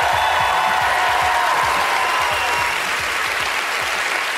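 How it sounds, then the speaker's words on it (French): Studio audience on a French television show applauding as a co-host is introduced, a dense, steady wash of clapping at full strength throughout, with no voices over it. "Gardez-vous des applaudissements, mesdames et messieurs, pour mon complice, le très chic Antoine Bertrand"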